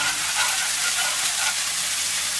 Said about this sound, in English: when that stops sizzling like it's slowing right down now